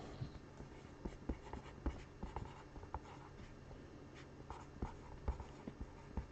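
A name is handwritten onto a sheet of paper at a basketball card break, the pen scratching in short close strokes and quick taps with a steady rhythm, with no voices.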